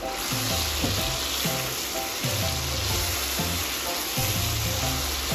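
Beef igado simmering over low to medium heat in a pan as the liquid cooks down to dry and oily, giving a steady close sizzle and bubbling that runs continuously without talk.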